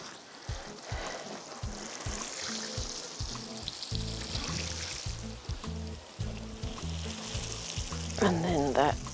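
A garden watering can gives plants a good root soak in late summer: a continuous pouring and splashing stream of water close by, with a faint voice near the end.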